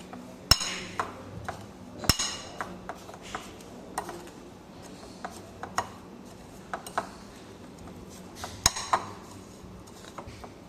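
A spoon stirs chilli-lemon pickle with freshly added lemon juice in a bowl. Sharp metallic clinks and taps come close and fairly quiet at irregular intervals, with soft scraping between them.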